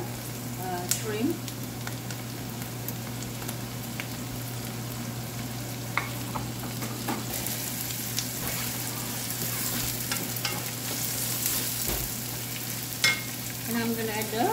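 Mixed vegetables and shrimp stir-frying for pineapple fried rice, a steady close sizzle with scattered clinks of a utensil against the pan and a low constant hum behind it.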